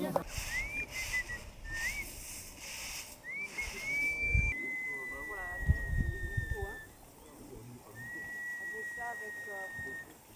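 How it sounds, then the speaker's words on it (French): A woman whistles short rising notes, then a longer sustained tone, in a kitchen along a trek through the Mugu and Upper Dolpo region of Nepal, with people talking quietly in the background. "La dame siffle et appelle le vent."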